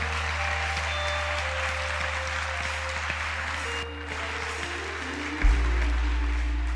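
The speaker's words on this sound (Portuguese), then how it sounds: "Você pode aplaudir de verdade para a glória de Deus" A church congregation applauds in a dense, steady wash of clapping, with low sustained instrument tones underneath that swell near the end.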